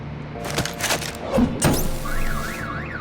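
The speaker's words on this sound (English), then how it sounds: "My bat stunner would set off the car alarm." In the Batman Telltale video game, a car alarm set off by a bat stunner starts after a few loud thuds and impacts, then wails in a rising and falling siren pattern, loud and close.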